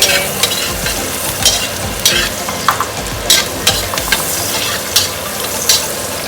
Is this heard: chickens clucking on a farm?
no